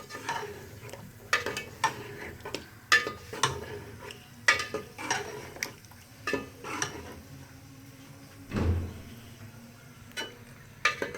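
Marinated chicken for chicken do pyaza cooks in a pan, with a faint low sizzle broken by repeated sharp clinks and scrapes of a spoon stirring against the metal, one dull thump near the end.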